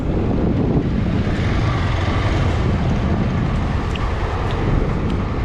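Sea waves break on Cox's Bazar beach at low tide, a loud broad wash of surf that roars steadily without pause, heard up close and mixed with wind, with no one speaking.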